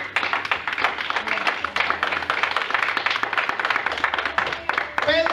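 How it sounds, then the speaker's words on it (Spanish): Congregation clapping for Christ during a Spanish-language sermon, a dense run of rapid handclaps with a few voices mixed in, steady and moderately loud throughout. "Dale un aplauso a Cristo"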